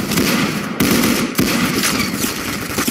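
Rapid gunfire from weapons in the Roblox game Arsenal, including a sniper, crackles in dense, continuous bursts that fill the whole stretch with loud, overlapping shots and no clear gaps.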